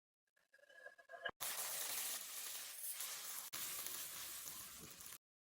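Whole spices and dried red chillies sizzle loudly in hot oil for a vegetarian khichuri, a dense bright hiss that starts abruptly, holds for several seconds with a brief dip, then cuts off.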